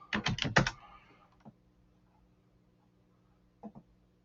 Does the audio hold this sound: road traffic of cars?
no